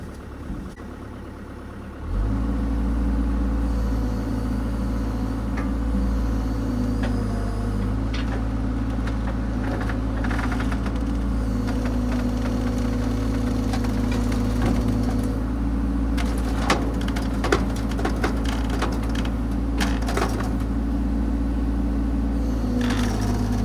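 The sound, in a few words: dump trailer raising its bed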